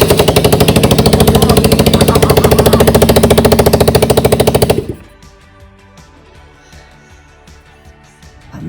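A Vespa LX 125 scooter engine starts up after its fuel supply is turned on and runs with a loud, fast, steady rhythmic pulsing for about five seconds, then it cuts off abruptly, leaving quiet background noise with no talk.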